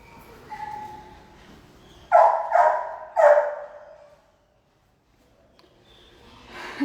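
A 1-year-old boxer retriever at an animal shelter gives three loud, close barks in quick succession, then falls quiet before a snort.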